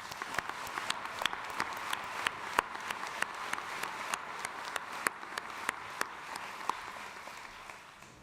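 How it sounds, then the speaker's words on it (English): An arena crowd at a university commencement ceremony applauds, a dense wash of clapping with sharper individual claps standing out, steady and sustained throughout before easing slightly at the end, heard from some distance. "Let's have a round of applause for each other."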